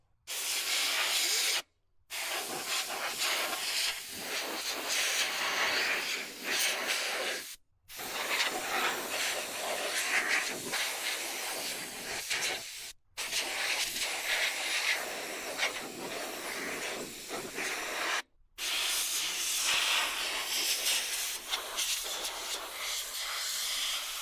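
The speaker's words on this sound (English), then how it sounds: "Air compressor just kicked on again" An air compressor runs steadily nearby during cleaning of a dirty Dell Precision T3610, a broad continuous hiss and rush broken by several brief gaps, loud and unaccompanied by speech.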